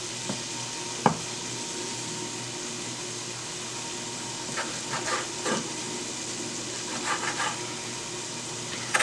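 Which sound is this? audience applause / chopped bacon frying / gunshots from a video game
chopped bacon frying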